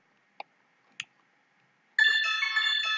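A phone ringtone sounds as a verification OTP message arrives, a loud sustained electronic tone starting abruptly after two soft clicks in near silence.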